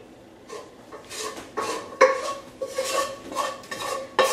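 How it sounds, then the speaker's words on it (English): A utensil scrapes bacon grease and onions off the bottom of a skillet in a series of short, irregular metallic scrapes and clinks, close and moderately quiet, with no speech. "scrape all that good stuff off the bottom of your skillet with the onions"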